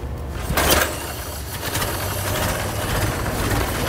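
A 1913 Ford Model T engine catches with a sharp burst and then settles into a steady, low, rough idle, close by and moderately loud.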